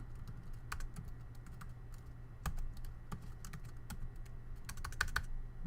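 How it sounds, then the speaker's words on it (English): Quiet, irregular clicking of keys on a computer keyboard, short bursts of taps with small gaps, close by over a low hum. "Just so you see me typing it out"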